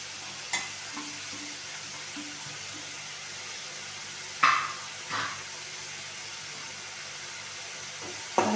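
Green chillies and onions frying and being stirred in a pan, with a soft steady sizzle and a few sharp scrapes and clinks of the spatula against the pan.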